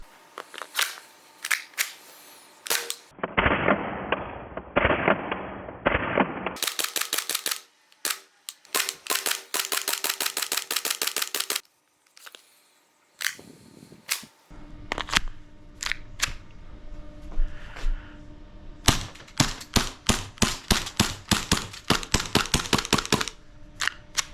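An airsoft pistol firing a long series of sharp snapping shots, some in quick bursts and some spaced singly, loud and close, with brief gaps between the strings.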